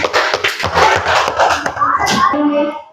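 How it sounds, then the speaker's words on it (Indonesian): A classroom of students breaks into loud clapping and shouts for a group that has just presented, a dense burst of applause with voices that fades near the end. "Beri aplaus untuk temannya."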